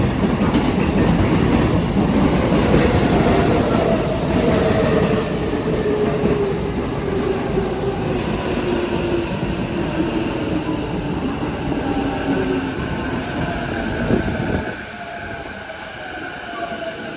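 A JR Chuo Line train pulls into Tachikawa Station with a long rumble, clattering wheels and squealing brakes that slowly fall in pitch, then the noise drops off sharply as it comes to a stop.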